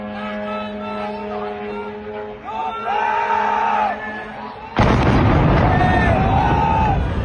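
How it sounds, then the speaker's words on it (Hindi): Drone strike on a US base in Bahrain: a steady rumbling din gives way to a sudden loud, broadband blast roughly two-thirds through, which then sustains a heavy roar, with faint whistling tones and voices in the background. "फुटेज में ड्रोन अमरीकी अड्डे पर गिरने के बाद जोरदार धमाके होते देखे जा सकते हैं"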